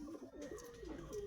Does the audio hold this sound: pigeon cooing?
yes